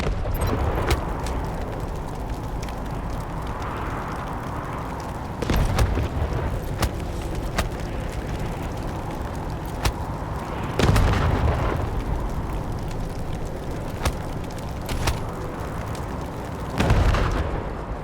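Rocket gun explosions in a video game: heavy booms recur every few seconds over a constant rumbling battle din, each blast broad and loud, about four distinct detonations across the stretch.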